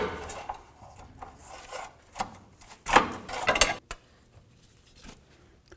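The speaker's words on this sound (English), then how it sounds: "I'm just going to get right along it with my pry bar." Pry bar knocking and scraping against a metal bellows boot clamp on an inner tie rod of a 2007-2017 Jeep Compass, giving a run of close scraping rasps and short metallic taps, with a louder burst of clatter midway.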